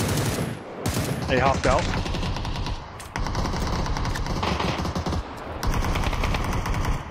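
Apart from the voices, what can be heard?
gunfire in the video game PUBG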